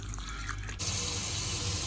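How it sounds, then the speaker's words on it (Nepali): Tap water runs over soaked, hulled urad dal during washing, starting with quieter handling then jumping into a steady, close rush of flowing water. "अब हामी यसलाई एकचोटि सफा पानीले धुन्छौँ।"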